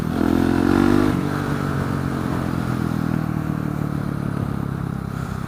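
A 2016 Husqvarna 701 supermoto motorcycle being ridden, its engine droning loud and close with a brief higher rev at the start before settling into a steady hum mixed with wind noise.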